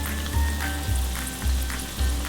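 Food sizzles in hot oil with a dense, constant frying hiss. Regular low bass thumps pulse underneath from an outdoor music festival in Vang Vieng.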